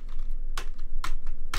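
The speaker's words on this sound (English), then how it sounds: "it's like typing really loudly," Loud keystrokes clatter on a computer keyboard, a few sharp clicks spaced about half a second apart over a steady background hum, close to the microphone.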